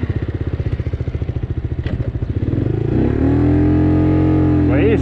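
A Magpower R-Street 50 motorcycle, a 50cc bike with an unrestricted ECU, a 15-tooth front sprocket and a 65 km/h top speed, idles with a fast, pulsing putter. It then accelerates into a loud, steady, rising drone. The sound is close and no one talks.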